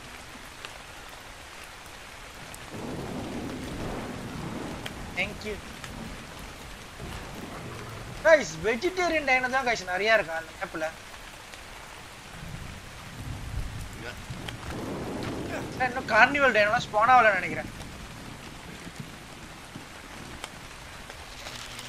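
Steady rain with rumbles of thunder falls in the video game ARK Scorched Earth, a continuous hiss under someone talking at intervals.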